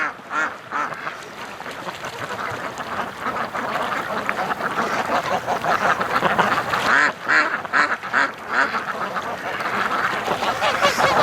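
A flock of ducks quacks on a lake, with dense overlapping calls that rise and fall in bursts and carry on without pause at fairly close range.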